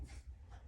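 A pet dog makes short snorting, breathy barks close by indoors during a home card-making session, in a single brief burst.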